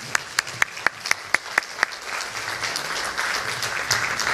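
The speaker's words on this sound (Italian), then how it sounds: "E intanto vi chiedo un grande applauso." Live audience applauding a guitarist at a concert: several sharp, evenly spaced claps lead off before a steady wash of clapping builds and continues to the end.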